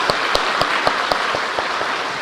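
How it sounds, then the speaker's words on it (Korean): A church congregation claps in encouragement for those who served this past year and will serve next year, a short burst of many hands with a few sharp, prominent claps standing out above the steady patter. "모든 분들과 또 새해 수고하실 분들을 위해 격려의 박수"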